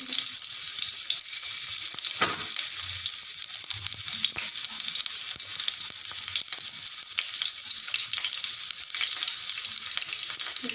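Mustard seeds and cumin sizzle and fry in hot oil in a home kitchen, a loud steady crackling hiss that runs throughout with occasional stirring.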